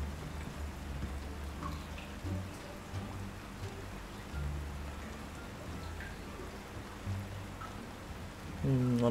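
Rain patters steadily in the survival game Icarus, a soft continuous hiss with low rumbling underneath and a few faint tones and thuds near the end.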